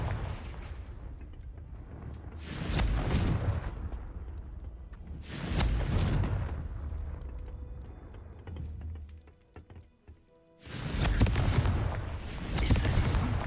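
Booming blasts from the Confringo fire spell in the Hogwarts Legacy video game, three big explosive bursts a few seconds apart, each with a long roaring tail that fades out before the next.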